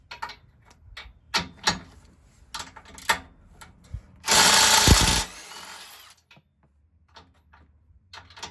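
An impact wrench loosens the two 18mm bolts on a truck bumper crash bar, one long loud buzzing burst near the middle, surrounded by scattered clanks and handling knocks.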